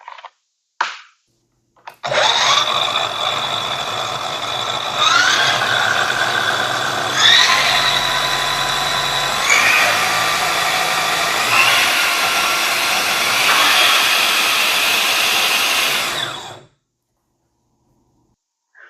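A Festool Symmetric SYMC 70 EB cordless miter saw runs on two batteries. The motor starts with a high, whining spin that holds steady for about fourteen seconds, with several short dips and surges in pitch before it winds down into silence.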